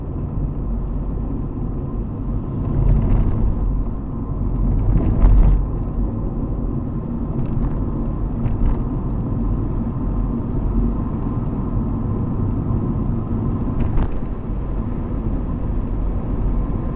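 A car drives along University Avenue with a steady engine and road rumble throughout, and a few faint passing whooshes and brief swells rise over the constant drone.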